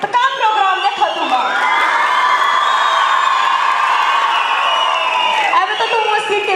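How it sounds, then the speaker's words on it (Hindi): Crowd at a school annual function cheering, with shrill whistles and shouting rising over the noise and clapping mixed in, lively and continuous throughout. "अब तो तुम सीटी भी बजा रहे ताली भी बजा रहे"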